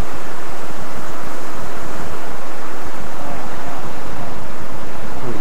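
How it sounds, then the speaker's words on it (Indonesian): Big ocean waves surge and crash near a rough fishing spot, a loud, continuous roar of surf mixed with wind buffeting the microphone. "Karena ini ombaknya gede teman-teman."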